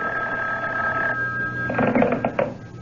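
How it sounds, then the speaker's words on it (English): An old-fashioned telephone bell rings in a radio mystery drama, two clear trilling rings, loud and close, with no talking over them. "when I wasn't even thinking about the phone, it rang"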